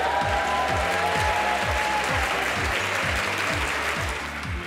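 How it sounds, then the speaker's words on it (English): Award nominees and guests at a women in banking and finance achievement awards ceremony cheer and applaud, sustained crowd clapping with whoops over a pulsing background music track, loud and continuous, easing slightly at the end. "Give us a cheer if you're a nominee"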